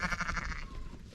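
Sheep on a farm bleat and squeal in a rapid, wavering cry that breaks off partway, then lower bleats and shuffling noises follow, close by and alone.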